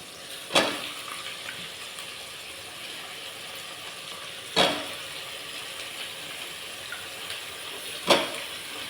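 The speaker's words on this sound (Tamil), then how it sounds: "காயெல்லாம் நல்லா வதங்கட்டும்" Vegetables sauté in plenty of oil in a pan for a Tamil kuzhambu, giving a low, steady sizzle broken by three sharp knocks spaced a few seconds apart.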